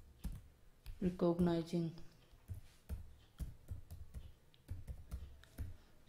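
Quick clicking keystrokes come from a computer keyboard during Python programming, tapping in irregular bursts close to the microphone, with a voice speaking briefly over part of it.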